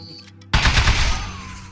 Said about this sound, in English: So shoot the metal.